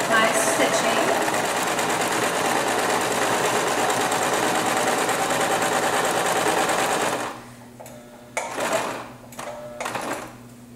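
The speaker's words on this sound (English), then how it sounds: "you're just going to sew your zigzag stitch all the way down, pulling the elastic as you go." A sewing machine runs a zigzag stitch down PUL fabric while the elastic is stretched. The motor hums steadily and loudly for about seven seconds, then stops, followed by a few short bursts of stitching.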